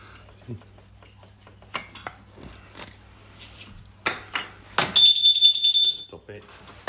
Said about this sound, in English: Always remember to disconnect the fucking alarm